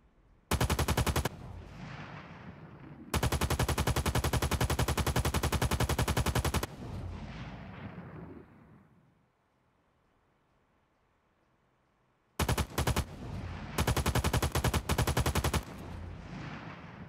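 An RPK machine gun in a video game fires long automatic bursts, loud and rapid, with echoing tails between them, a quiet pause midway, then more bursts, with no talk.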